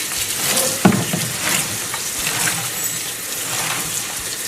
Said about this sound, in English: we're going to take the leaves and we're going to wash them